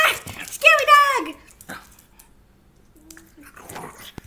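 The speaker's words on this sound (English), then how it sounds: "Scary dog!" A pug gives a short whimpering yelp and some soft vocal noises near the start, close by, followed by a quiet pause and faint rustling. A person talks over parts of it.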